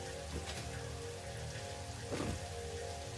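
Satisfactory 1.2 Experimental rain, a steady close shower of drops over a low hum, with a couple of brief swooshing surges, and no talking.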